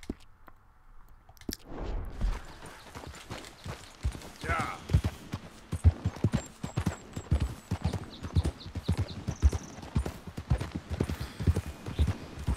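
Horse hooves clip-clop steadily at a trotting rhythm in Red Dead Redemption 2, a continuous run of close, even beats with faint game ambience behind them.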